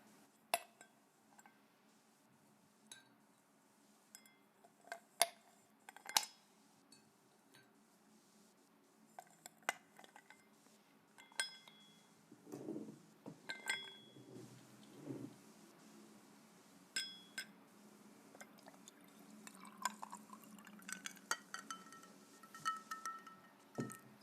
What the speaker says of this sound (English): Let me get your drink ready.